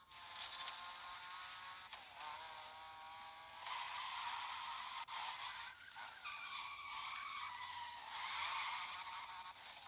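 A car drifts on a track in The Crew Motorfest with sustained tire squeal and skidding over a revving engine, continuous and loud with brief shifts in pitch.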